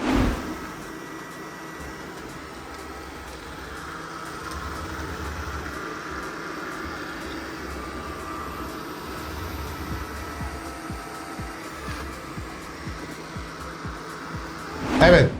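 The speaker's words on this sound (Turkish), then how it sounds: "Emin olun normal bir elektrik süpürgesinden çok daha az ses çıkartıyor." A Mova S10 Plus robot vacuum runs with a steady, fairly quiet whirring hum and soft motor drone throughout, with a couple of louder bumps at the very start and end.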